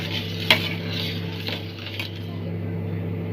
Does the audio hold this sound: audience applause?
no